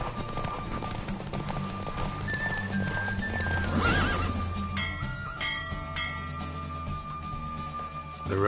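Hooves pounding in a steady run with a loud horse whinny midway, during a horse race in The Witcher video game, set against music and game sound effects, all close and busy.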